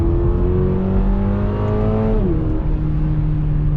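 A 2022 Subaru BRZ engine revs high and loud from the cabin, holding a steady rising tone before dropping sharply in pitch about two seconds in and settling at a lower drone, with no talk.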